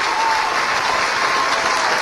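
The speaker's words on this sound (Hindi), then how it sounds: "जोरदार तालियां हम सबकी।" Loud, steady applause from a large audience at a government employment event in Indore, a continuous wash of clapping with no pauses.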